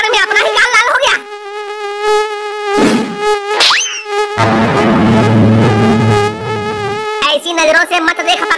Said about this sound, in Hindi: ऊपर से साला ये मच्छर काट रहा है।